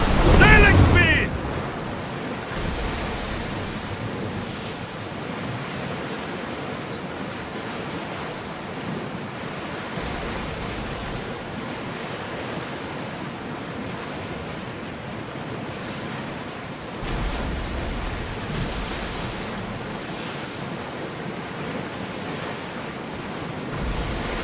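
A ship sailing over ocean waves in Assassin's Creed Odyssey, with a steady, loud wash of surf and wind that continues throughout, briefly swelling at the start and again later.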